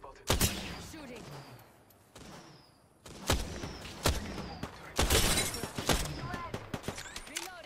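Rapid bursts of gunfire crack through a battle royale firefight, several sharp, loud volleys and single shots landing in quick clusters, with smaller impacts and clatter between them.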